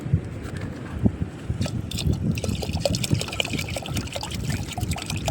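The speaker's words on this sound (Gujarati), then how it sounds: "જો મારા વાલા હવે પાણી રેડે થોડું" Water trickles and splashes into a pot of boiling rice while crab curry is being cooked, an uneven close-up pouring sound with small bubbling pops.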